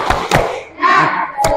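A classroom group performs the rhythmic tepuk semangat clap: a couple of sharp, close hand claps, then a loud collective shout of voices, then one more crisp clap.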